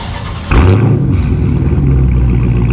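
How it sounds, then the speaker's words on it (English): A 2018 Dodge Charger Scat Pack with its mid muffler deleted starts up loud and close, a sharp crank and roar settling quickly into a deep, throaty, rumbling idle. "Got the mid muffler delete done. They about to start it up."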